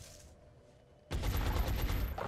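Video game gunfire at an enemy in X-COM: Enemy Within; after a quiet second, a sudden loud burst of rapid automatic fire erupts and holds steady to the end.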